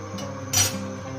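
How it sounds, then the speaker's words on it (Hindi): A spoon flips a cheesy bread omelette sandwich in a pan, making one brief, close scrape and clink against the pan with steady background noise and no voices. "अब हम एक चम्मच के मदद से ना हम इसकी साइड चेंज कर लेंगे"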